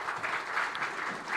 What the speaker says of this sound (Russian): Давайте мы аплодисменты прославлению дадим